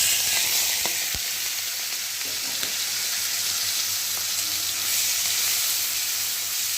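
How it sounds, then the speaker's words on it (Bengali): Prawns frying in a hot wok, a dense, close sizzle with a couple of sharp spatula knocks early on and a steady hiss throughout. "চিংড়ি মাছটাকে ভালো করে ভেজে নেব"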